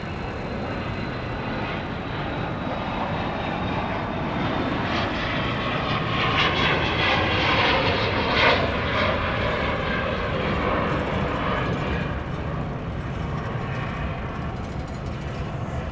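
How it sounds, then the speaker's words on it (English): A Falcon business jet's engines roar at Dallas Love Field, a loud, steady broadband rumble and whine that swells slightly midway and holds for the whole stretch with no talking. "I believe this is the same Falcon we saw arriving not too long ago from Carrollton, Georgia."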